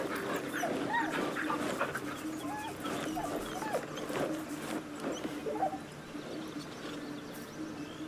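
A dog whimpers in the video game Baldur's Gate, giving soft, repeated whines over an ambient outdoor game backdrop with scattered bird calls.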